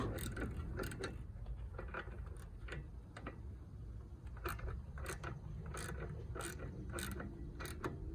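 A ratchet turns a T40 bit on the front magnetic strut of a Cadillac XTS, producing a steady series of quick, near clicks in irregular bursts throughout, with no talking.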